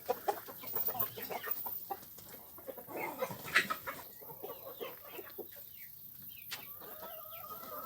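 Chickens cluck repeatedly in the foreground, with busy overlapping bird calls and soft farmyard activity around them.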